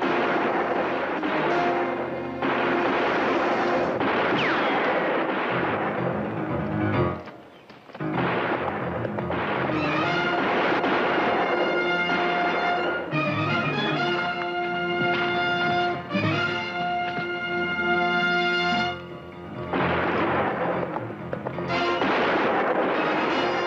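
Gunfire rings out in a classic western TV episode, with repeated loud shots cracking over a busy soundtrack of movement and commotion, broken by a few short lulls.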